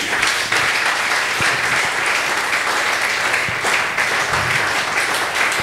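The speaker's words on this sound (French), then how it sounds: "Est-ce qu'on peut augmenter les acclamations pour la croix de Jésus?" A church congregation applauds and cheers, a dense, continuous wash of clapping and voices from a large crowd at moderate volume throughout.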